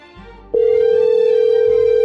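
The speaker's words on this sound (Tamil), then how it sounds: "ஃபோன் ரிங் ஆகுது எடுக்க மாட்டாங்க" A phone sounds one loud, steady electronic tone lasting about a second and a half, heard close and clear over a low background hum.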